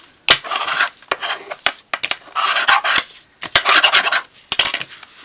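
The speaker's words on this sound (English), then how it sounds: "Sure we burnish this all down really well." Folded paper cardstock being burnished flat with a tool, giving bursts of scraping, rubbing strokes separated by short pauses and sharp taps, close and fairly loud with no talking.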